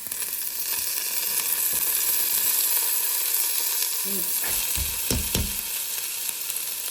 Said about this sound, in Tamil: இப்போ இனி நாங்கள் வெட்டி வச்ச லீட்ஸை போடுவோம்